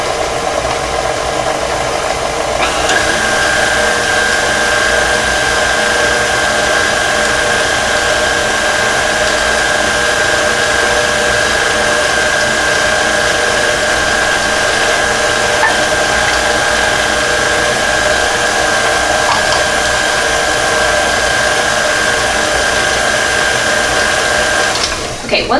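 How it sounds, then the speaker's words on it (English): Electric hand mixer on its second speed setting beating eggs into batter for lemon zucchini bread, a steady close whirring drone with a faint rattle that holds nearly unbroken for about 25 seconds. "So I just do that on like the second setting, number 2, on my hand mixer."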